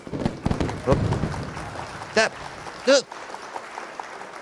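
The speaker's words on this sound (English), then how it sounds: "I applaud for you again." Applause sound effect on a charity livestream, a short burst of clapping mixed under the streamer's ongoing talk and other game or stream noises.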